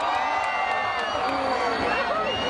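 A loud Thai concert crowd at a show at BMMF 2017 screams and cheers in a continuous roar, shrill voices rising over the general din.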